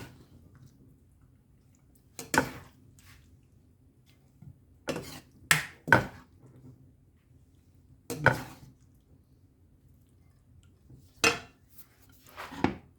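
A utensil scoops stir-fried pork with cabbage, carrot and onion out of a pan to serve, making a handful of sharp, separate scrapes and clinks with quiet pauses between them.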